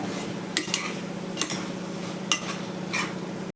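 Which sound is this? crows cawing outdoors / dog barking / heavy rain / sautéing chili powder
sautéing chili powder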